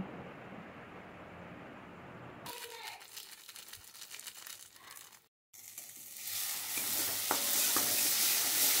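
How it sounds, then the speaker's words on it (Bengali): Spices frying and being stirred in a pan for rohu fish kalia, with salt, turmeric, cumin powder and Kashmiri chili powder. Quiet at first, then scraping stir noises, a brief gap, and a louder, steady sizzle toward the end. "সব মশলা দিয়ে ভালো করে এভাবে আবারও আমি কষিয়ে নিচ্ছি।"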